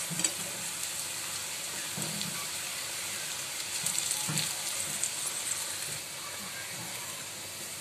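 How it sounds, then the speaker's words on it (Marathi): Dry coconut roasting in a pan for a Malvani crab curry, a steady soft sizzle and hiss running throughout with a few faint stirring scrapes, no voices. "खोबरंही आपल्याला व्यवस्थित भाजून घ्यायचं आहे, न करपता भाजून घ्यायचं आहे।"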